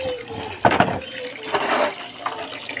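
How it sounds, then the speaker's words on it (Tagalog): Dishes are washed in a basin of water: splashing and sloshing water with a few knocks from plates, close and fairly loud. "ganyan lang hugas ng plato oh"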